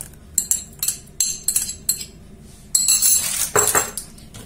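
Metal utensil scraping and clinking against a bowl while lemon cake batter is stirred with yogurt, giving a series of short close taps and scrapes in irregular bursts with no talking.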